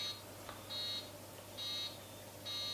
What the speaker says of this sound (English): The beeping sounds you hear on a Game & Watch.